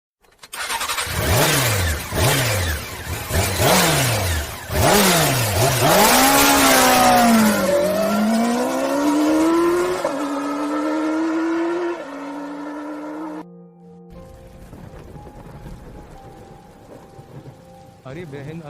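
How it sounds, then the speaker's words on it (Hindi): A vehicle engine cranks and starts, then revs in several rising and falling surges before settling into a steadier run and cutting off near the end. There is no talk. "अब मैं गाड़ी स्टार्ट कर रहा हूँ।"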